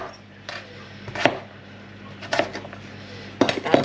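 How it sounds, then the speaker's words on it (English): Knife chopping swede on a board while preparing vegetables for a roast beef Sunday dinner: a few separated clusters of sharp, close cuts with knocks against the board, spaced irregularly over quiet kitchen background. "I'm just finishing off cutting up the swede"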